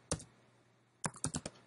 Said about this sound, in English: let's try and type something in Eclipse